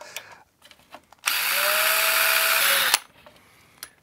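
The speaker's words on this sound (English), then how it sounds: "4 millimeter pilot hole, and the rest is going to be done with a step drill." An electric drill bores a 4 mm pilot hole in the case of an Amstrad MP-1 module, a single loud, steady whine lasting nearly two seconds and starting and stopping abruptly, with quiet handling noises around it.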